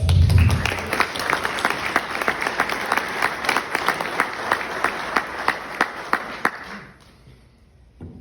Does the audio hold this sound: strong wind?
no